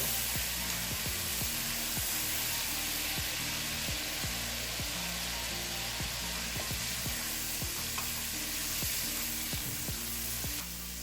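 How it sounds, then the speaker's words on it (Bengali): Spice paste with ground coriander and cumin sizzling and frying steadily in a pan, a dense continuous crackle with a constant low hum of a kitchen appliance underneath and faint regular scraping taps. "এখন আমি মশলাটাকে খুব ভালো করে কষিয়ে নিব"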